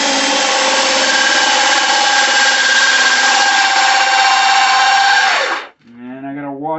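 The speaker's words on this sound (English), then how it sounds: "I'm going to drill the hole." A power drill whirs steadily at high speed for several seconds, loud and close, then stops abruptly and winds down.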